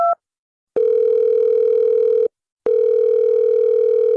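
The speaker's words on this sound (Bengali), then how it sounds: "কেরামত ভাইয়ের বউরে একটু ফোন দিয়ে দেখি তো।" A phone call rings out with a steady electronic ringback tone, two long identical beeps separated by a short silence, after a brief higher tone at the start, loud and clear with no voices.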